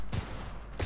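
Two close, punchy gunshots ring out back to back in the 2012 shooter Syndicate, each one a brief, loud report.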